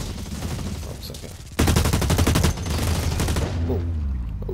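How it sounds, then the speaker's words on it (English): Rapid automatic gunfire in the video game Blacklight Retribution, a loud dense burst of about a second followed by a lingering softer rattle, with game ambience around it. "someone's shooting at me"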